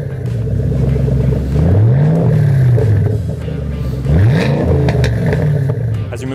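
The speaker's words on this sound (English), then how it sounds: "And we have to give you an exhaust clip." A 2014 Ford Mustang Shelby GT500 with a 5.8-liter V8 revs loudly through its exhaust, two rising blips over a steady close idle rumble.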